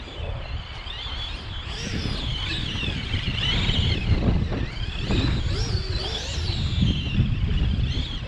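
A stock-motor Traxxas X-Maxx RC truck runs on and on through snow among trees, its broadband whir and rumble steady with wind-like hiss, surging in places, with no talk over it.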